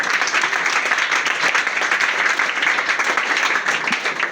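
A congregation at a prayer meeting breaks into loud, sustained applause, dense and even clapping from many hands that fills the room for several seconds, with no clear voices over it.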